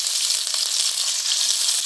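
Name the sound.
chopped onion sizzling in hot oil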